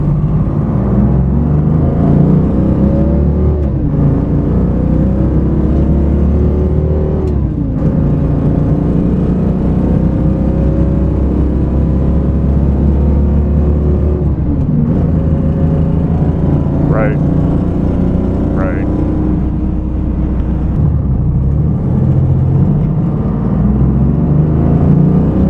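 A Detroit diesel engine running on a biodiesel blend drives a 1970 Roadrunner, a steady loud low drone rising and dropping through shifts, with speech at times.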